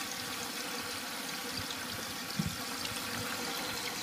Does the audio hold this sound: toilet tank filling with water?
yes